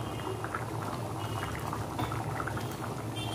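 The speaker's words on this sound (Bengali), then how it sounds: "আমার এবারে ঘুগনি হয়ে এসছে, টকটক করে একদম ফুটে গেছে" Ghugni, a pea curry, bubbling steadily in a pot, a continuous low simmering burble with soft liquid pops throughout, close and moderately quiet with no voices.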